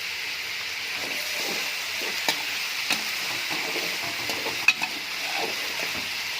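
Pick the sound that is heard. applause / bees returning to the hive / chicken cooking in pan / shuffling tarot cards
chicken cooking in pan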